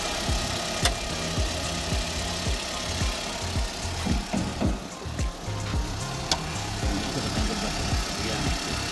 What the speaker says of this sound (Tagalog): So makikita yung maganda yung tunog ng makina niya